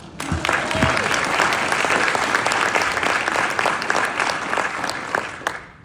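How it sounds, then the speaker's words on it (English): Steady audience applause fills a Monroe County Democrats fall political dinner, a dense, sustained round of clapping from a crowd that holds loud throughout and tapers slightly at the end. "How about a second round of applause for Gene Smith"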